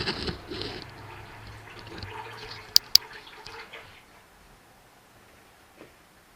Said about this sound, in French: ça coule beaucoup plus vite alors que tout à l'heure ça faisait du goutte à goutte